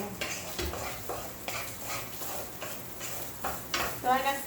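Tempeh frying in a pan and being stirred with a wooden spoon, a soft sizzle under repeated scraping strokes and light knocks against the pan, fairly close, without speech.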